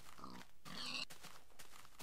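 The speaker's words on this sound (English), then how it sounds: "But more pigs." A Minecraft pig gives short grunting oinks, two or three brief calls close by in quick succession with no talk over them.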